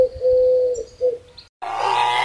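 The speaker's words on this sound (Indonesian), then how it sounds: "Dove. Burung dara." A dove coos in a steady low hum with a brief break, then a short pause before a fuller burst of bird sound, fairly close and clear.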